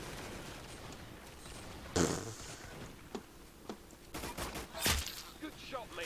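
Video game gunfire goes off in short bursts of sharp shots, some single cracks and some quick volleys, heard up close alongside players talking.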